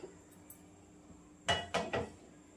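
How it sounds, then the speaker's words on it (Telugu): A metal pan is set onto a lit stove in a home kitchen before tempering gongura chutney, heard as three quick close clanks near the end after a quiet stretch. "స్టవ్ వెలిగించుకొని ప్యాన్ పెట్టుకొని"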